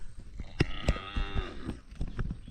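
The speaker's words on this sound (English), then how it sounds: "I love this cow, guys." A cow moos loudly and close, one long drawn-out low call with some background knocks and shuffling, no talk.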